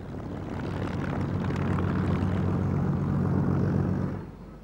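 Spitfire propeller aircraft passing at the International Air Tattoo air show at Greenham Common, a loud, steady engine drone that holds for several seconds and then fades away.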